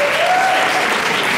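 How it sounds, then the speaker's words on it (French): A slam poetry audience applauds a poet after her scores are read, loud dense clapping sustained throughout, with a brief tonal whine sliding beneath the crowd noise. "On applaudit la poète."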